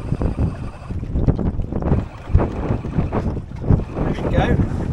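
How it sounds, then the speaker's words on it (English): Gusty wind rushes past a sailboat under spinnaker, a steady roar of wind noise swelling and easing at close range. "here's a little gust"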